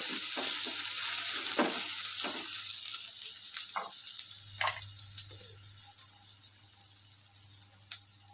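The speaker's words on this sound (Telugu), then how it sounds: "లైట్గా అయితే ఫ్రై చేసుకోవాలి ఆయిల్లో" Egg frying lightly in oil with turmeric and ginger garlic paste, a soft continuous sizzle with a low hum beneath and a few scattered clinks of stirring, fading slightly over time.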